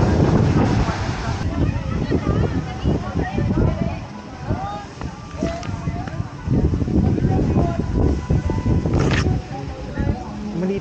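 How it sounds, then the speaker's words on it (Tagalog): Strong sea wind buffets the microphone at an inflatable island off Subic, a loud continuous rush with people talking throughout. "Pakalakas ng hangin."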